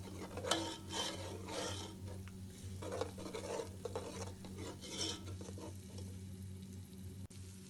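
Ginger garlic paste being stirred into fried onions in a pan, quiet rhythmic scraping and rubbing of the spoon with a soft sizzle under a low hum, no talk.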